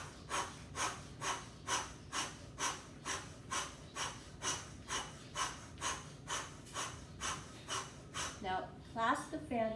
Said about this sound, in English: Powerful breath now, 10 seconds.